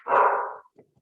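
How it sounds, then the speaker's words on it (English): A dog gives one full, fairly loud bark, followed by a couple of faint, short yips in the background. "Excuse my dog in the background, just having a little bark."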